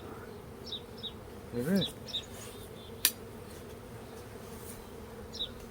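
Honey bees, a Russian hybrid cross, buzz faintly around a backyard beehive in steady low hum, with a few brief nearby buzzes passing and a single short spoken word.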